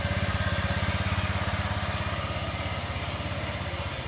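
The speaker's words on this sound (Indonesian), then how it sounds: "Oke, sepeda ini hidup" A Honda Vario 150 scooter engine idles steadily after a bottom kick-start, a close, even low putter pulsing at a constant rate with no talk over it.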